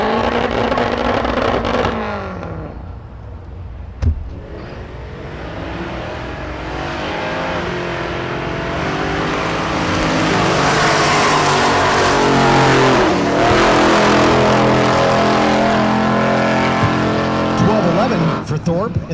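Drag race cars at Tulsa Raceway Park roar through a run, engines building from a rumble to a loud sustained howl with tire squeal, while an announcer talks over the action throughout.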